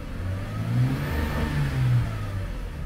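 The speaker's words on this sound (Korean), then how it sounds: "가속 페달 밟아볼게요" Car engine revving as the accelerator pedal is pressed during an oxygen sensor check, a steady mid-pitched hum that swells twice, close and moderately loud, with no talking.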